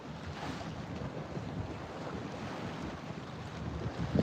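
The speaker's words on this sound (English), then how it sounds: "The wind." Steady wind blowing by the sea in the Philippines, a continuous broad roar with surf and water noise beneath, buffeting the microphone and swelling slightly louder toward the end, with no voices.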